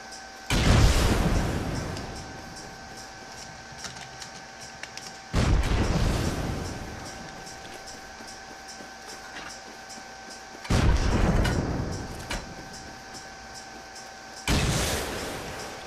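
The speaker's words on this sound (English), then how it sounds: "Alright, we're having a rocket fight now." Rocket launcher explosions in a Rust duel with incendiary rockets: four heavy, booming blasts spaced several seconds apart, each with a sharp onset and a long rumbling decay, loud and close.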